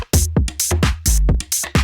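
Two organ samples triggered together on an Akai MPC One, a series of short, punchy chord stabs in a choppy rhythm, each hit cutting off the one before.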